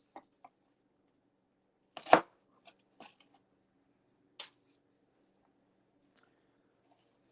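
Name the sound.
chopping vegetables with a knife for cheesesteaks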